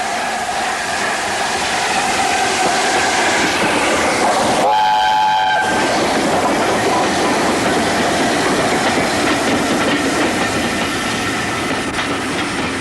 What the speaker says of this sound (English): The train ran into Westbury Station from the south